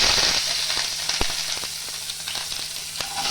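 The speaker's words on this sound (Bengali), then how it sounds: "আমি সবকটা একসাথে ভালো করে ভেজে নেব।" Onion, ginger, garlic and green chilli fry together in a pan for kadai paneer, a steady loud hiss of sizzling oil with a few sharp spatula taps against the pan, no talking.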